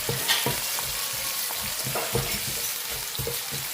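Onions frying crisp in a pan for fried fish curry, with steady close sizzling throughout and repeated stirring or scraping knocks at an irregular rhythm.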